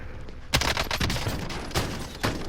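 Hip-fired gun bursts in a first-person shooter, with a few sharp loud shots spaced irregularly over a steady background of game ambience.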